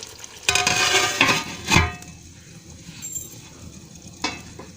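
Potatoes and green chillies drop into a hot aloo gosht pot with a burst of loud sizzling and clattering stirs, which settles into a quieter fry with a few later knocks.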